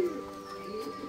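A Madrasi giribaz pigeon gives a brief, soft coo close by, a single low warbling call with faint background noise.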